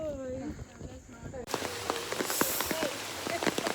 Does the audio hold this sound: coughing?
no